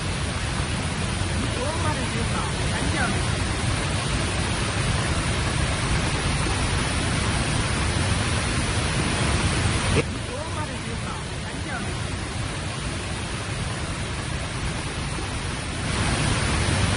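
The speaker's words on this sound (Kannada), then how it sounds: "ಕಳಸಾ ಬಳಿ ಇರುವಂತಹ ಸಿರಿಮನೆ ಫಾಲ್ಸ್ ಭೋರ್ಗರಿತಾ ಇದೆ." Sirimane Falls near Kalasa roars during heavy monsoon rain, a steady, loud, broadband rush of water that never lets up and shifts slightly in tone midway.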